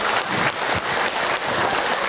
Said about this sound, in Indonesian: Oke, tepuk tangan buat Hilman ya.